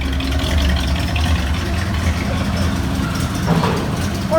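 A 1983 Chevy El Camino V8 idles through dual straight-pipe exhaust, a loud close low rumble holding steady throughout with a slight rise near the end.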